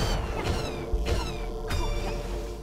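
Kitties in The Swords of Ditto meow close and clear, three or four rising, wavering cries in quick succession over a steady game background hum.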